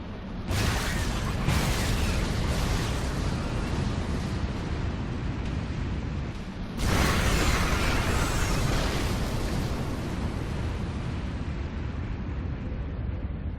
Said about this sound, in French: Notre colonie a à peine survécu à cette explosion, ma reine.